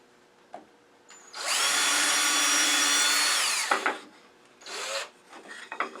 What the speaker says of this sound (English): I'm going to drill straight down to the bottom and then countersink it from the top.